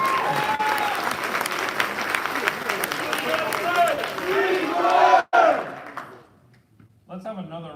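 Sustained applause from an audience at a wing quarterly awards ceremony, honoring Category 2 civilian nominees; dense steady clapping with crowd noise, cutting off abruptly near the end before a brief quieter tail.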